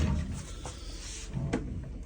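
Drawers in a camper being opened and shut, giving a few soft wooden thuds and slides close by, with a firmer knock near the end and no talking.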